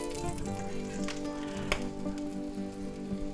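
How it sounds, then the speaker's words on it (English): A ham and French toast sandwich, made with egg and cheese, fries in a pan, giving a steady close sizzle with soft crackles and no voices over it. "Let the French toast cook a little bit."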